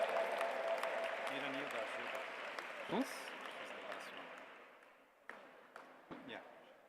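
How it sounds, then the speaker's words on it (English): At the G20 Interfaith Summit 2023, a hall audience gives steady applause that gradually fades, with a speaker's voice heard faintly over it. "Let's give them a big round of applause, my friends, and wish them all the very best."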